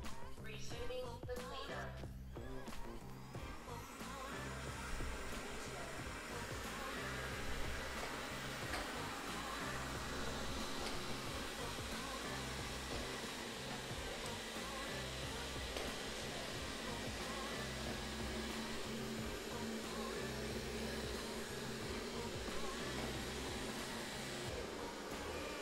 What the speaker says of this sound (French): l'appareil passe en même temps l'aspirateur et fait la serpillière sans aucun problème